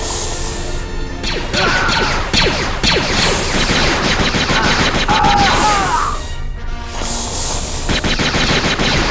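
Blaster fire from the Star Wars Jedi Knight II: Jedi Outcast video game, loud, rapid repeated shots with crashing impacts in a busy, continuous firefight, briefly dropping out before resuming.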